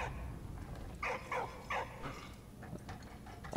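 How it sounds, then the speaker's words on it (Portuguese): A dog in the video game Valiant Hearts barks a few times in short muffled bursts over a steady layer of noisy game background sound. "Ele tá latindo, velho."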